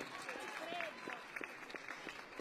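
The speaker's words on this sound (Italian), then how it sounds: "è un applauso di coraggio." Faint audience applause at a political speech on a stage in Arezzo: a soft, steady crackle of many hands clapping from a distance, with a voice over it.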